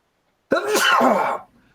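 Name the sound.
sneeze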